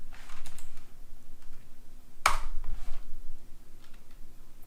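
Code being typed on a computer keyboard in Unity: quiet, irregular key clicks in short bursts with one sharper, louder keystroke near the middle, no voice.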